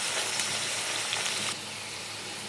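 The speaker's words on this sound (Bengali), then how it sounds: "আলুগুলো লাল করে ভেজে নেব।" Potatoes frying in mustard oil in a kadai, a close, steady bubbling sizzle that softens slightly partway through.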